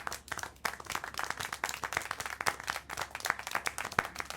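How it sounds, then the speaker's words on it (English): Crowd clapping in the video game Syberia: The World Before, a lively patter of many hands applauding continuously and fairly close, dense and slightly uneven throughout. "How can you clap?"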